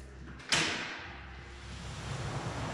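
Tall glass doors of a house in Sedona slide open. A sharp knock or clunk starts the movement, followed by a sustained rolling rush that fades into room noise.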